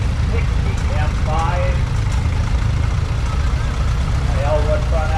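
Steady low engine rumble of a 1960 Minneapolis-Moline M5 tractor running at a summer show, constant and close, with people talking over it.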